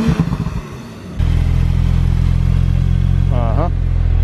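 After a moment of talk, a Porsche 911 Turbo S with 580 hp bursts into a loud, steady, close engine roar inside the cabin, and a passenger's voice briefly rises over it.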